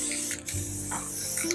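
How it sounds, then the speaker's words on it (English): An aerosol can of spray adhesive hisses in short bursts onto a craft pumpkin, close and airy, over a low steady hum of background music. "give it a really quick light coat of the spray adhesive"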